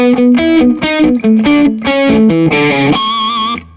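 A heavily distorted electric guitar plays a choppy riff, ending on a sustained, squealing high pinch harmonic that rings out briefly before stopping.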